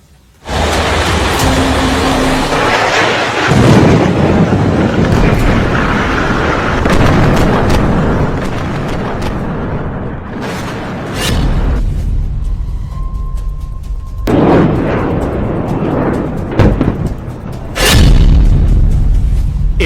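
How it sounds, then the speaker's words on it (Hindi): Explosions destroying a Hezbollah building, heavy booming blasts and rumbling debris, loud and close, with several sharp cracks and renewed bursts through the clip. "इजराइल की सेना ने सबसे ताजा वीडियो जारी करते हुए दावा किया कि उसने हिजबुल्लाह की इस इमारत को तबाह कर दिया है"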